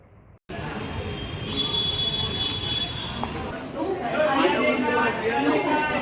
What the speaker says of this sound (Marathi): तुम्ही डोंबिवली स्टेशनला पाहू शकता किती लगबग आहे ती